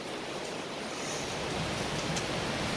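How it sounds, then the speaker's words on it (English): Heavy rain pouring down outdoors near open water after a fishing trip, a steady dense hiss that fills the whole clip with no breaks. "it's a good thing we got off the water because it's straight up pouring"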